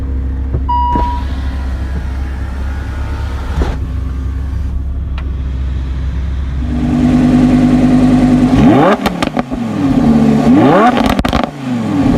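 A Lamborghini 5.2-liter V10 engine in Need for Speed idles with a low rumble, then revs hard in rising and falling sweeps, loud and up close with no talk.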